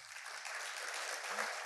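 An audience claps in response during an education lecture, with brief, moderately faint applause that is steady and unaccompanied by talk.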